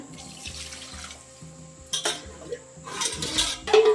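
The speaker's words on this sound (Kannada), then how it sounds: "ನಾಲ್ಕು ಲೋಟ ನೀರು ಹಾಕೋತಾ ಇದ್ದೀನಿ" Water is poured in several short splashing bursts into a metal pot of rice for egg biryani, with light clinks of the vessel between pours, close and fairly loud.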